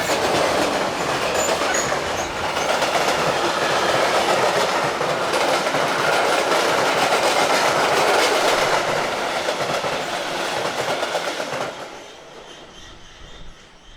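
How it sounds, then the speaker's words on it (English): Mixed freight train hauled by electric locomotive 185232 rolls through Hannover-Linden station: a long, loud, steady roar of wagons with clattering wheels and squeals, dropping off abruptly near the end as the last car passes. "Mixed freight trains are 2 or 3 an hour through here. 185232 is in charge of this one."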